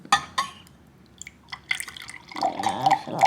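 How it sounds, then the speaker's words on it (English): Water is poured into containers: a few sharp drips and splashes at first, then a louder, steady pour filling a vessel near the end. "I'm gonna pour like a fifth of the way of water"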